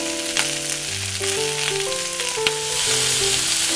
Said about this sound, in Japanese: そのまま中火で焼いていきましょう